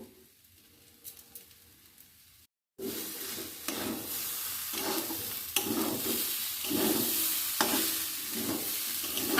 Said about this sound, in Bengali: চাল আর ডালটাকে আবার ভালো করে ভেজে নেব